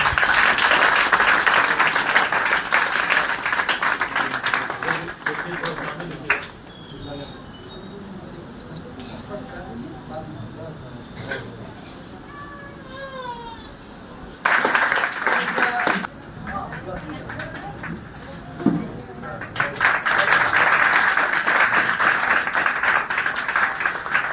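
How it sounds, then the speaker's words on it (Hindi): An audience applauds the unveiling of a painting at a formal event, with bursts of clapping at the start, middle and end separated by quieter stretches of speech and room noise. "उसकी पेंटिंग को हटा जोरदार ताली बजाइए"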